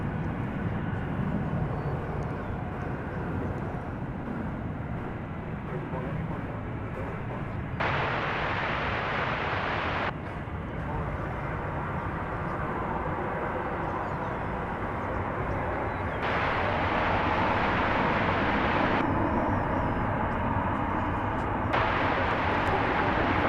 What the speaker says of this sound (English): And Embraer 175, landing on 18 left.